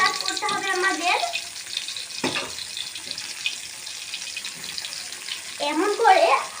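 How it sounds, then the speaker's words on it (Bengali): Eggplant slices fry in hot oil with a continuous bright sizzling hiss, while someone talks briefly over it at the start and near the end. "আমরা একটা একটা বেগুন ছেড়ে দিব, গরম তেলের ভিতরে চুবিয়ে দিব"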